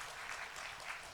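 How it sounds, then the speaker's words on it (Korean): A church congregation at a Sunday service claps to welcome newly registered members, a steady, dense wash of applause held at an even level through the whole short moment, with no voices over it. "그리고 박수로 환영하겠습니다."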